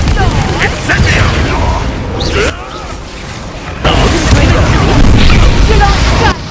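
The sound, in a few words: Incendio fire spell in Hogwarts Legacy video game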